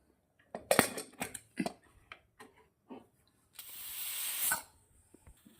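A pressure cooker used for brinjal pulao lets off steam. Several sharp clicks and knocks come first, then a loud, sustained hiss of escaping air that cuts off abruptly.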